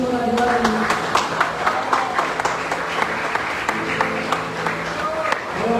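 A church congregation at a Sunday evening family service at Igreja Missão Atos Anchieta applauds steadily and fairly loudly, with voices audible through the clapping.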